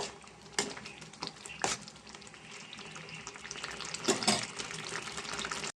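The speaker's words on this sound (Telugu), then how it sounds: "దీంట్లో స్పూన్ అల్లం వెల్లుల్లి పేస్ట్ వేద్దామండి ఇది కూడా కొంచెం పచ్చివాసన పోయేదాకా మనం బాగా ఫ్రై చేసుకుందాం" Ginger garlic paste frying in oil in a pan for an Andhra-style small fish curry, a continuous close sizzle broken by several sharp clatters of a spoon stirring, with no talking.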